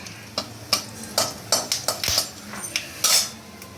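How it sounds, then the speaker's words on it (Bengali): Cinnamon and cloves hitting hot oil for tempering, a bright sizzle beneath repeated sharp clinks and scrapes of a spoon stirring against the pan. "এবার দেখো দারচিনি আর লবঙ্গ দিয়ে দিলাম"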